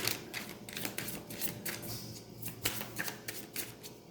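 Tarot cards are shuffled in quick, crisp riffles and slaps, a dense run of papery flicks that continues steadily throughout at close range with no talking.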